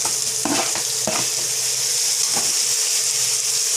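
Chopped tomatoes drop into frying onions in a pan, giving a close, steady sizzle with a few sharp stirring knocks and scrapes, unaccompanied by any voice.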